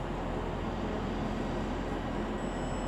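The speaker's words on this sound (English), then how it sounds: "Will be 331-108 with the 1700 Northern service to Manchester Airport. Departing about a minute late now." A Northern Class 331 electric train departs Liverpool Lime Street on a service to Manchester Airport, giving a faint, steady rolling hum and rumble with a thin high whine and no voices.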